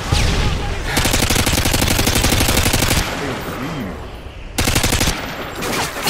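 Rapid automatic gunfire rattles in Modern Warfare 2, with long loud bursts of machine-gun fire separated by a brief lull, then another burst and scattered shots, all close and dense.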